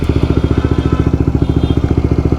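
A 2021 Honda CBR 150R fitted with an R9 Zeta-R exhaust idles close by. It puts out a loud, deep, evenly spaced burble of rapid exhaust pulses with no talking.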